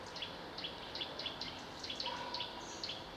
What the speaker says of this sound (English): already I can hear the warning note of what I believe to be a nuthatch